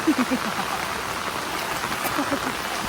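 Heavy rain falls steadily near an overflowing stream, a continuous close hiss of drops, with faint voices underneath.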